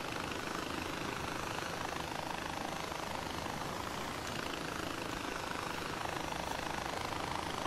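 A small helicopter flies in the video game Far Cry 4, giving a dense, steady rotor and engine roar that fills the whole stretch with no talk over it.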